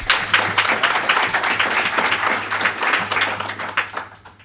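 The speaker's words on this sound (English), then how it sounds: "Applaud." A church congregation applauding, a loud, steady wash of many hands clapping for several seconds, with a low hum running underneath.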